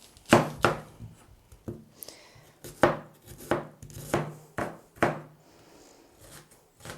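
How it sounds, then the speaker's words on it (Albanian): A knife chops an onion on a board in about a dozen sharp, close strikes, some in quick pairs and others spaced apart, with no talking. "Do presim edhe qepën."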